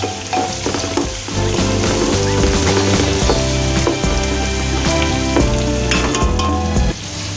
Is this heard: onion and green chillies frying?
yes